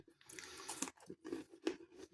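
Close, quiet chewing of a stale Sainsbury's KitKat wafer, with several soft crunches and moist bites in an uneven rhythm.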